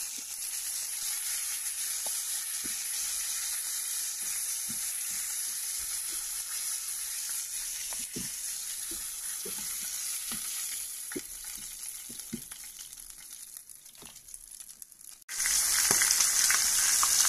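Fish pieces fry in oil in a pan, a steady, close hiss of sizzling fat with scattered small pops and clicks, briefly quieter before a sudden louder burst of sizzling near the end.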